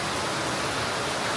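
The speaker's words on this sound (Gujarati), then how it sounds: "ઓલો વરસાદ દાદો આવ્યો જોરદાર." Heavy rain pours down steadily in a dense, even wash of noise, loud and unbroken with no voices.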